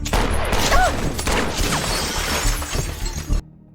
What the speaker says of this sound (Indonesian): Tiba-tiba, pengemudinya menembak kaca depan.